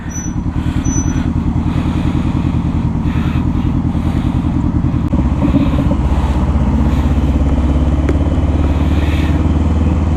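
A motorcycle engine drones steadily and loudly, a close, continuous rumble as the bike rides along with a brief shift in pitch midway.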